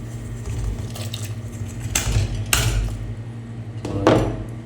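Fish dropped into a pot of boiling Sankara fish curry and stirred gently, with a steady bubbling simmer under a few bright clinks of a ladle against the pot, close and fairly loud.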